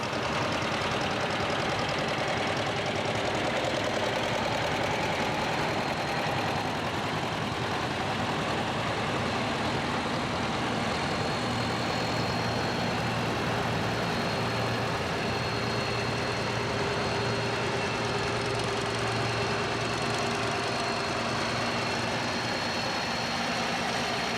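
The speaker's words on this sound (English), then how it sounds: "And here's a neat tractor. It's a John Deere H with duals." A John Deere H tractor with dual wheels runs steadily in a parade in Dyersville, Iowa, a loud, even low chug with a broad rumbling noise, close by and unbroken for the whole stretch.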